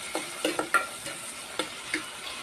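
Sautéing in a pan for adobong kangkong makes a soft, steady sizzle, broken by several light clicking stirs of a utensil against the pan, fairly quiet and with no speech.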